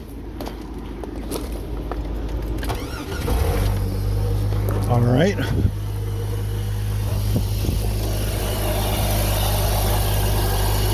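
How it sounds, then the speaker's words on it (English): A car engine is cranked, catches and settles into a steady low idle while a person speaks briefly, with handling noises before the start. "I'm going to have to now crank it and start it."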